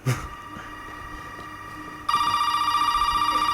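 A telephone rings continuously in the video game Resident Evil 7, a steady electronic trill that grows louder partway through and keeps repeating over faint game ambience.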